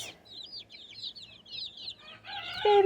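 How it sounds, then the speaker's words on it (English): Baby chicks peep in a steady chorus of high, rapid chirps inside an incubator room, with a louder clucking call and a brief tone near the end. "There's actually like 5 chicks over there."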